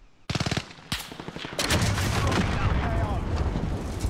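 In a Call of Duty Warzone match, a grenade launcher fires: sharp, loud bursts of shots at the start, then a heavy, sustained rumble of explosions, with a voice talking over it.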